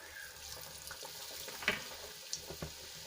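Soft sizzling of a snack made from rotis frying in oil in a kadai, with a few faint clicks and scrapes, quiet and close with no talking.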